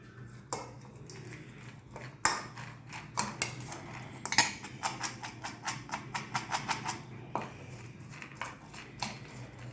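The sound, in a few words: sprout salad with lemon juice being mixed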